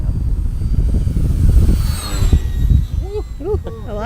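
Maiden Arrows RC Bearcat 1100mm model plane flying in strong wind outdoors, a thin high motor whine drifting over heavy wind buffeting, with a voice speaking briefly near the end.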